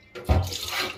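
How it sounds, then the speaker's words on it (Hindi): Excess RO water is poured out of a container at home, a short splash starting abruptly after a brief quiet moment, then a steady trickling pour close by. "ज्यादा हो गया पानी, थोड़ा निकाल देते हैं।"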